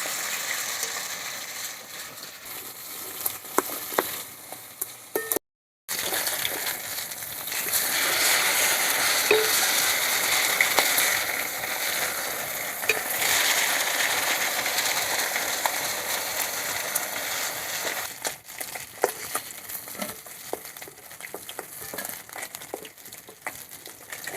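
Climbing perch (koi fish) frying in oil in a pan, a dense continuous sizzle with crackles and occasional stirring scrapes, one brief dropout near the start, no talking.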